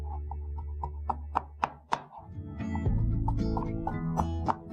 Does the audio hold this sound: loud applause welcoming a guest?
no